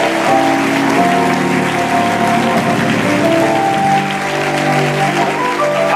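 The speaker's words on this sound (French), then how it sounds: "S'il te plaît, voisin, est-ce que tu peux acclamer le Seigneur à sa place" A church congregation claps and acclaims the Lord, a dense, sustained wash of applause with voices mixed in, loud and continuous for several seconds.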